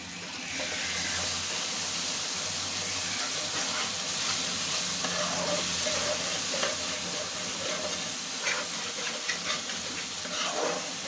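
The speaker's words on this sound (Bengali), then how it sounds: "অনেক সুন্দর করে কষিয়ে নিতে হবে মশলা" Spices sizzling and frying in oil while being stirred for a traditional North Bengal potato dal, a continuous loud hiss with scraping stir noises close up, no talk.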